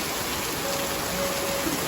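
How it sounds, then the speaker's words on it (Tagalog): Heavy rain pours down steadily during a flood, a constant broadband hiss of water on surfaces that stays even and close throughout, with no voices. "Ang lakas na ng ulan."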